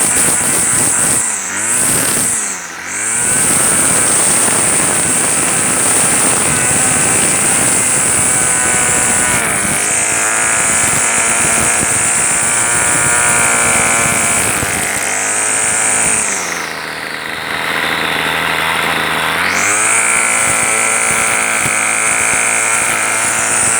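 A Hyper Tough gas string trimmer engine runs loud and close throughout, its high buzzing whine rising and dipping as the throttle changes, with brief drops toward idle between bursts.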